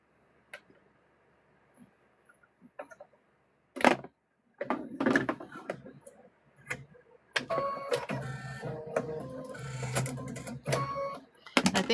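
Three embroidery machines stitching at once while stuffed bears are made, starting with sparse clicks and taps, then building into a dense, continuous whirring chatter of needles that runs steadily to the end.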